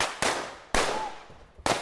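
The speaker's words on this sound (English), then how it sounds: "we got gunshots" Three sharp, loud gunshot cracks from a staged western show, spaced apart, each followed by a decaying echo, with no voices in between.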